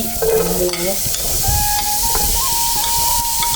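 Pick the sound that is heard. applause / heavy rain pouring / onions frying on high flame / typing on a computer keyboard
onions frying on high flame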